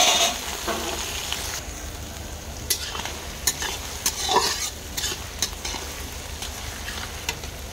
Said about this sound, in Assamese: এতিয়া মই অলপ পিঁয়াজ আৰু জলকীয়া ভাজি ল'ম।